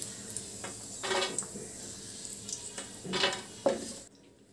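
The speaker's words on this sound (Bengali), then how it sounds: "চিনাবাদামও 1 মুঠো ভেজে নিচ্ছি" A handful of peanuts fry in hot oil in a wok, a low steady sizzle punctuated by several louder stirring scrapes and clinks of a spatula against the metal, ending abruptly.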